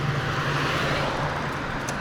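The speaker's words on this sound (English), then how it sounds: "Did you hear the engine at least?" A car engine passes on a Berlin road as a steady, loud roar with a low hum, close by and continuous for the whole moment, with no voices over it.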